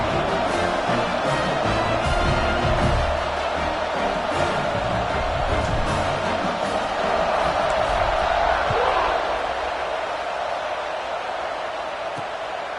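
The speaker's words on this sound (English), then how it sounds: "this crowd is feeling themselves after that last drive." Stadium crowd in the NCAA 26 college football video game, a dense, continuous roar of cheering fans that stays loud and steady throughout, with the ambience swelling slightly near the end.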